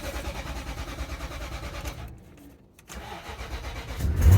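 A 2008 Nissan Armada engine cranks in the cold, goes quiet for a moment, then catches and starts, rising to a loud, close rumble at the end.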